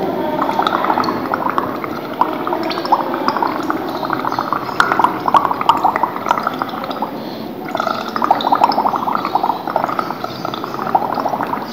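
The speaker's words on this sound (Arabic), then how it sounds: "وهنبدأ بالنفخ لمدة دقيقة أو دقيقتين" Continuous bubbling as someone blows through a straw into a glass of clear limewater, a steady close gurgle of air through liquid lasting throughout with no talking.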